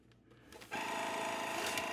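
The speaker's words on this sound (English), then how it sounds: "Let's go ahead and try our little slider cutter here." A small slider cutter draws across a vacuum sealer bag, a loud steady rasping slide kicking in abruptly and running on without a break.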